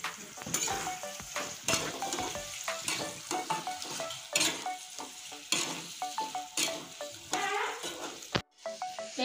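Jackfruit and potato fritters sizzle and crackle steadily in hot oil, with frequent sharp scrapes and clinks of a spatula stirring the pan at close range, and a brief lull near the end.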